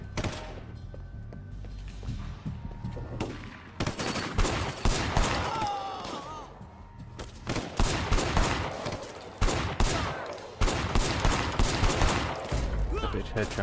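Rapid bursts of gunfire in Sleeping Dogs crackle in dense, overlapping volleys that stop and start, loud and close, with a few brief gaps and an undertone of game sound and faint voices.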